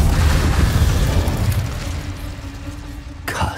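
The Incendio fire spell in Hogwarts Legacy bursts as a loud, rumbling whoosh that fades over a few seconds, followed by a brief bright sparkle near the end, with no voices.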